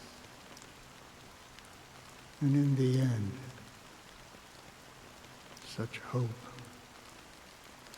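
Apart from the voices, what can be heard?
rain falling in the video game Honkai Star Rail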